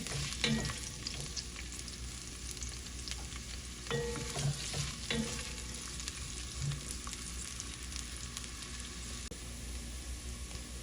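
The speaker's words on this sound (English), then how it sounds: "We're gonna put 1 diced onion in here." Diced onion fries in a soup pot for chicken tortilla soup, with a soft continuous sizzle and a few scattered stirring clicks and scrapes, moderately quiet and with no talking.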